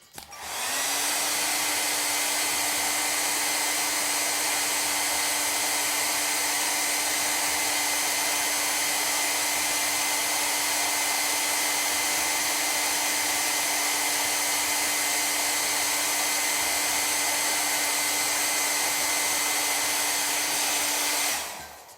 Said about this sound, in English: I'm going to tip this hairdryer slowly, slowly, slowly sideways